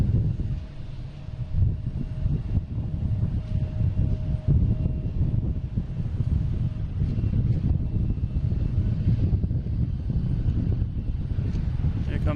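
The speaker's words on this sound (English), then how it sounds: "Next coming in is a JetBlue flight 888 coming in from LAX and A321." A JetBlue Airbus A321 arriving from LAX comes in to land at Boston Logan, heard as a steady, fairly loud low jet roar with wind buffeting throughout, a faint whine riding above the rumble.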